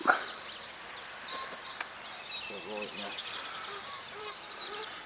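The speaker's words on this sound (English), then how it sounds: "Oh, look at them geese." Geese honk at a carp fishery lake, one sharp close call at the start and then fainter scattered honks through the clip, with people talking over the birds.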